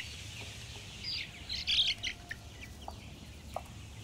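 Chicks and adult hens in a coop at an organic egg farm in an orchard, with a burst of high chirping and peeping over a low, steady hum, then a few scattered soft chirps.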